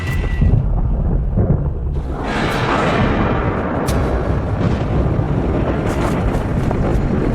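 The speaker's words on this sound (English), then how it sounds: "As the evening shift arrives, so does a vicious storm." Thunderstorm rolling over an oil field, a heavy low rumble joined by wind buffeting the microphone, loud and sustained with a sharper surge partway through.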